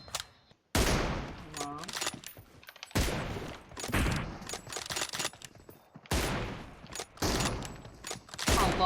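Rapid bursts of automatic gunfire in the mobile battle royale game PUBG Mobile, several loud volleys separated by short pauses, with someone briefly talking between them.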